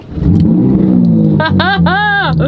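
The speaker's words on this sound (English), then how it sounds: "This was Ferrari's last naturally aspirated V8." A loud, naturally aspirated Ferrari V8 revs hard in sharp bursts, its pitch climbing and falling with each blip, over a deep idling rumble close by.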